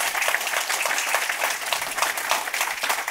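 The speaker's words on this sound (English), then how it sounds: "a big round of applause for my panelists" An audience claps for the panelists of a forest reforestation panel discussion, dense and steady applause filling the hall at close range without pause.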